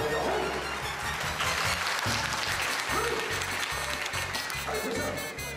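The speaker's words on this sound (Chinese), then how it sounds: "记得给他们热烈的掌声" Audience applause at a children's TV show stage event, broad steady clapping running throughout, with a low rhythmic music beat underneath.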